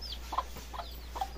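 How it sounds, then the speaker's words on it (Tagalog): A few soft clucks from Cobra breed chickens, spaced out and fairly faint, over a low steady hum. "Ito pala yung mga isatawag daw na manok na cobra."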